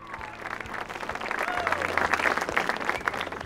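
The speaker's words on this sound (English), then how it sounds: "join me in applauding them for all that they do for us." Graduates turned toward their parents applaud them at a graduation ceremony, a broad crowd clapping that builds in the middle and stays full and sustained to the end.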